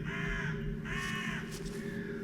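Crows caw repeatedly in a graveyard scene of the horror video game White Night, drawn-out harsh calls in a slow rhythm over a steady low ambient drone.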